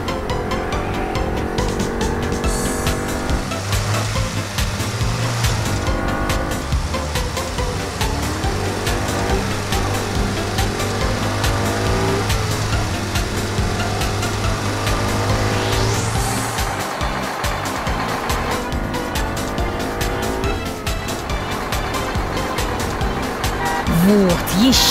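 Loud, continuous car engines revving and whining as cars race and overtake on a road, with rising and falling pitches, tyre squeals and a sustained horn-like tone partway through.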